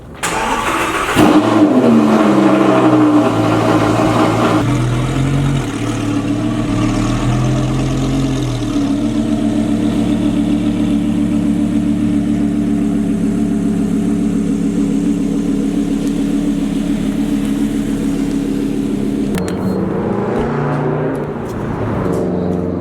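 A sports car engine starts, revs hard, then settles into a loud, steady running drone before revving again near the end, close and without talk.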